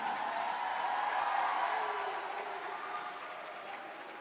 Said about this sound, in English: Big applause for Palestine.